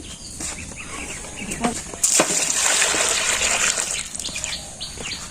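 Water poured over fresh catla fish from open water, a gushing splash rising midway and lasting a couple of seconds, with voices and clucking chickens in a village setting around it.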